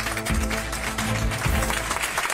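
Hospital staff applaud a 62-year-old COVID-19 patient leaving the ICU after 55 days, a dense, loud and continuous clapping with low rumbling underneath.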